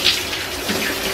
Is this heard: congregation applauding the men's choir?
no